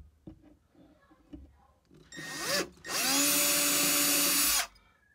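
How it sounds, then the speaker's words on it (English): A power drill with a skinny bit bores a pilot hole for a screw while mounting a surge protector power strip: a short spin-up burst, a brief pause, then a steady high whir for about two seconds after quiet, faint sounds. "find a very skinny drill bit that's about 2/3 the diameter of the screw to drill my pilot hole"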